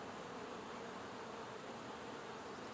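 Steady, dense buzzing of honey bees droning continuously at close range near a hive, with no voices.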